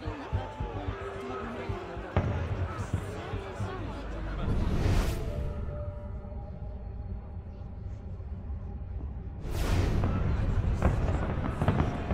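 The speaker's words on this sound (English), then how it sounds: "Fireworks." Fireworks go off in the video game Assassin's Creed Unity, with two big booming bursts over a murmuring crowd and someone talking over them.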